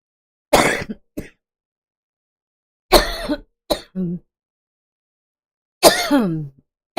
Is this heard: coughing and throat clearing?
yes